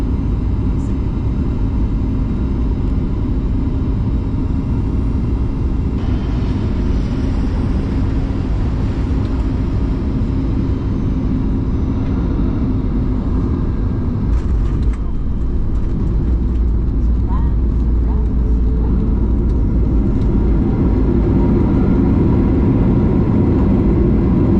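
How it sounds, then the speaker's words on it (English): Cabin of an Alaska Airlines Boeing 737-9 MAX landing at Anchorage, a loud continuous engine and airflow roar filling the cabin, shifting partway through as the aircraft touches down and decelerates. "Hope you enjoy our landing."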